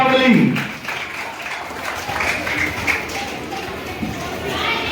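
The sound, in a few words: applause welcoming quiz teams onto the stage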